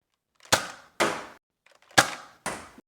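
Nerf Elite toy rifle cocked and fired, four sharp plasticky snaps in two pairs, close and clear against silence.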